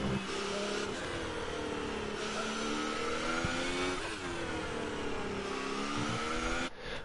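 A race car engine on an outlap in a racing sim at the French GP, droning steadily with shifting revs and repeated gear changes, continuous and fairly loud with no talking.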